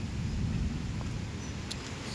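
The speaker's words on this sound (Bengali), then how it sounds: "এই হাওয়া দেখো কেমন হাওয়া হচ্ছে প্রচণ্ড বৃষ্টি গুঁড়ো বৃষ্টি পড়ছে" Wind blows while heavy, fine drizzle falls on a neighbourhood road. The result is a faint, continuous hiss and rush, with a few soft taps standing out and no talk.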